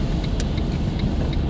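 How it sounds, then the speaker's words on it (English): A lorry passing outside, a loud steady low engine rumble close by with light rhythmic metallic ticks on top, no voices heard. "a lorry goes past it now"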